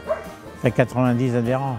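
Dogs at a dog club open day give a few quick yips and barks, then a longer whining, howling call, mixed with a person speaking nearby.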